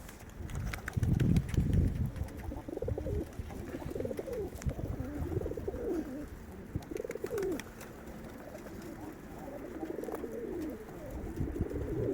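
Pigeons coo steadily in soft repeated low phrases, several birds close by in a small loft, over a constant rustling background with no talk.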